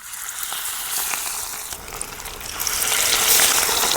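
Masala-coated fish pieces go one at a time into hot oil in a pan over an outdoor wood fire, giving a loud, continuous close sizzle and crackle that grows stronger toward the end, with no talk.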